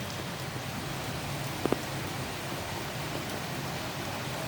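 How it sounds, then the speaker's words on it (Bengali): Rain falls steadily on a flooded street in Balurghat, a soft, even hiss of drops with a couple of faint brief knocks partway through, no speech. "আবার বৃষ্টি হচ্ছে মানে পুরো ডুবে যাবে একদম"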